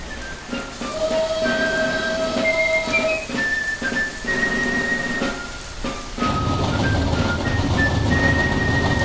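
Heavy rain falls as a constant hiss under melodic whistling tones, with a deep low rumble swelling in during the latter part of the passage.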